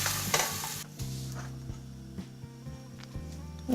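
Egg for an omelette sizzling as it is spread thin across a hot pan, with a steady fry and a few scraping stirs and light utensil taps near and clear.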